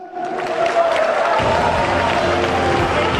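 Arena crowd at a boxing event cheering and clapping for Thai boxer Jomthong Chuwattana, a loud, dense roar of voices and applause that swells and holds steady throughout.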